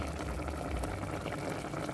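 A pot of chicken with spices bubbles at a steady, vigorous boil, a dense continuous gurgling and hiss close by, with no voices.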